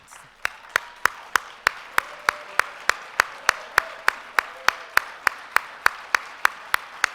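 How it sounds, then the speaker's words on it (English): Audience at a technologist of the year gala gives a standing round of applause: sharp, evenly spaced claps in unison, about two or three each second, steady and moderately loud over a quiet room. "we stand and give you all both a roaring round of applause"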